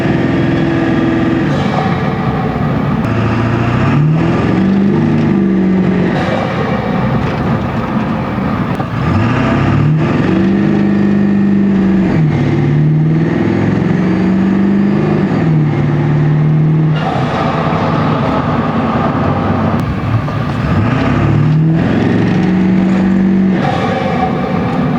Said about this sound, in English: Let's do some driving around here for you guys with the turbo back out the side.